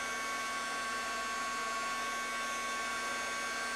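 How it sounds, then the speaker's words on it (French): A heat gun melts embossing powder on a stamped tree, giving a steady, even blowing hum with a constant whine. It stays unchanged and close throughout, and no one speaks over it. "je vais embosser mon arbre avec mon pistolet chauffant"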